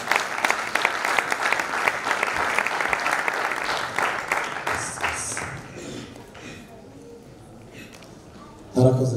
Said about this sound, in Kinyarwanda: Reka twongere amashyi menshi barasifiwe